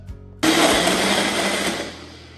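A bullet-style smoothie maker blends a protein smoothie, kicking in abruptly after a brief quiet moment and whirring loudly and steadily for about a second and a half before winding down.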